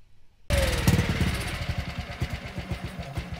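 A dinghy outboard motor cranks, catches and chugs with a rapid, uneven, sputtering rhythm that gradually loosens, loud and close after a sudden start.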